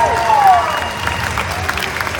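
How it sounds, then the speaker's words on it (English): An audience at Halloween Horror Nights 2018 claps for John and Chris, a brief steady burst of applause with some crowd noise and a voice underneath. "a big round of applause for their amazing inspiration"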